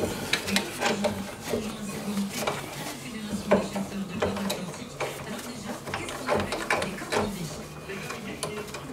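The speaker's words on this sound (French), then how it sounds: "On remet la douille uniquement pour aller plus vite, hein, pour desserrer plus facilement." A ratchet socket wrench loosens brake bolts on a Peugeot 308, its pawl clicking in repeated quick bursts of close, moderately loud mechanical ticks.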